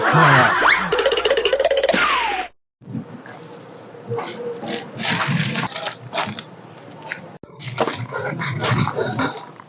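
Dogs barking loudly and close by, a rapid cluster of barks at first, then after a brief pause more overlapping barks and yelps continue.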